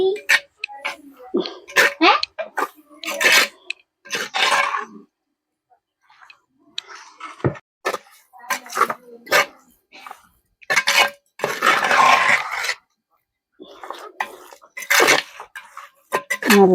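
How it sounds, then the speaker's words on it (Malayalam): Someone stirs a dish in a cooking pot, with scattered clinks and scrapes of a utensil against the pot coming through in short bursts under near continuous talking. "ഇതാ നല്ല പോലെ ആ ഇളക്കി കൊടുക്കട്ടെ"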